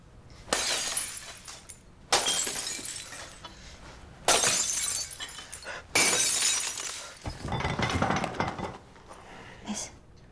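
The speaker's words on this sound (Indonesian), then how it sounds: "si ular menghantam kepalanya menggunakan botol minuman" In a film scene, a glass drink bottle smashes over someone's head several times, with sharp, loud crashes of breaking glass at roughly regular intervals and faint rustle in between.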